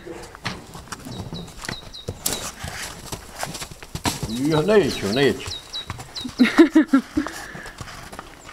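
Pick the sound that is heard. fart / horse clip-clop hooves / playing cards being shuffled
horse clip-clop hooves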